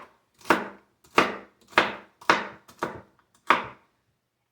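Knife chopping celery on a cutting board in a home kitchen: six sharp, evenly spaced chops with a short ring after each, close and clear, with no talking.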